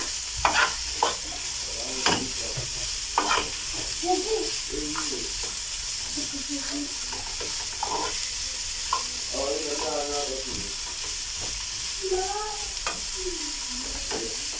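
Breakfast food frying and being stirred in a pan and browning: a steady, loud sizzle runs throughout while a utensil scrapes and knocks against the pan at irregular intervals.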